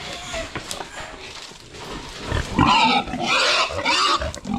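A pig on a farm grunts and snorts up close in rough, uneven bursts that grow louder and busier toward the end, with no talk over them.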